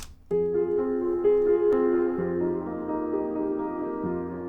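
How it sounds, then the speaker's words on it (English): Piano notes and chords ring out in a steady rhythm with a soft reverberant tail, played alone with no voices. "So this is the real piano that's actually in the composition."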